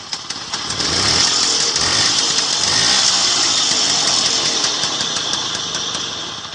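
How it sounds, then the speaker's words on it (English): Lambretta 150 scooter engine kick-started by hand and settling into a loud, close, steady two-stroke idle that holds for several seconds, with no talking. "And we can also start the engine by using our hands."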